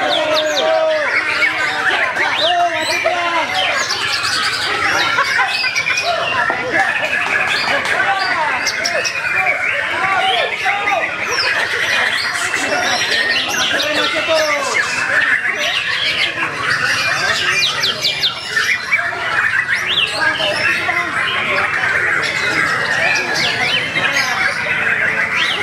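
White-rumped shamas (murai batu) singing at an open-class songbird contest, with dense overlapping chirps and whistles running continuously under a steady crowd hubbub and babble.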